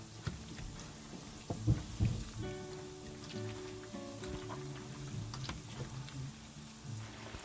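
Banana and cassava fritters (accra) frying in hot oil, a faint steady crackle and sizzle with scattered small pops, heard close and alone.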